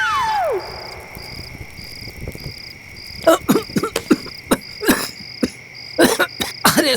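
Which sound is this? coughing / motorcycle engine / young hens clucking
coughing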